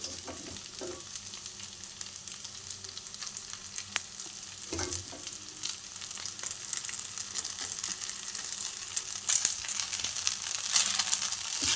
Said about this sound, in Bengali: এর মধ্যে এবার সেমাইগুলো দিয়ে দেবো।